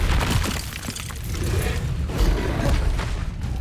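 Expelliarmus spell cast in Hogwarts Legacy, a loud magical burst with crackling, shattering impact layered over rumbling game effects throughout.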